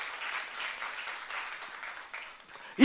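A church youth congregation at a Korean service claps together, a fairly soft, even patter of many hands lasting a few seconds, with a brief louder thump at the very end.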